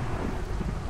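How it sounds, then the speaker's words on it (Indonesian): Thunderstorm in the Minecraft video game, a steady dense rumble of rain and low thunder filling the whole second without any voices. "Ini akan ada badai."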